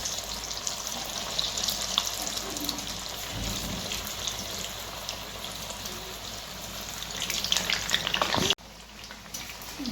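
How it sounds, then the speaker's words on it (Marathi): Coriander vadi frying in hot oil give a steady, close sizzle with bubbly crackle throughout, swelling louder near the end before a sudden drop to a quieter hiss. "चांगलं तेल तापलंय आपलं. आता वड्या सोडून घेऊ आपण."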